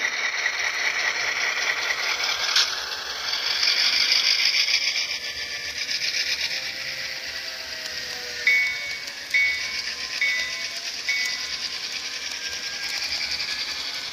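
HO scale Intermountain FP9 model locomotive with DCC sound, running and pulling a consist; a steady mechanical whir and gear ratchet with a few brief tonal horn-like notes, close and continuous without talk.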